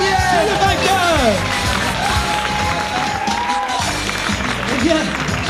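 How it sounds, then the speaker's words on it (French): A crowd at a bingo event cheers and claps for the winner, a lively wash of voices, whoops and scattered clapping throughout, with people talking over it. "On peut applaudir Étienne."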